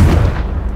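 A Confringo fire spell blasts in Hogwarts Legacy, a short loud booming burst with a heavy low rumble that fades quickly.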